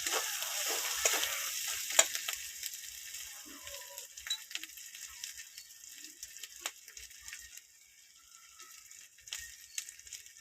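Red chili paste fries in hot oil with ginger-garlic paste for a stingray fish curry, giving a steady, close hiss and crackle with a few soft stirring knocks underneath.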